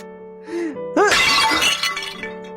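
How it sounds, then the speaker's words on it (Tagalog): A flower vase shatters with a loud crash and a burst of scattering glassy fragments, set against a steady musical background. "Nabasag mo yung flower vase."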